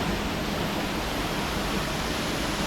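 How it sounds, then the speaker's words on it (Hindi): A small waterfall beside a village just past a bridge in District Sudhnoti, Azad Kashmir, fed by water from Panjpir Rocks: a steady, even rush of falling water at moderate distance, with no other sound. "बाएं जानिब एक खूबसूरत मगर छोटी सी आबशार दिखाई देती है।"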